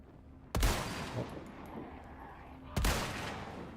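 Two sharp rifle shots fire in the video game Resident Evil 4, spaced a couple of seconds apart, each a loud crack followed by a lingering echoing tail over quiet ambience.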